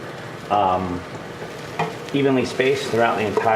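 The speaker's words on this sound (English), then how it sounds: "You want to always move your onion and garlic so that it doesn't burn" Onion and garlic sizzling in a pot as they are stirred, a steady close frying hiss running throughout while someone speaks over it in bursts.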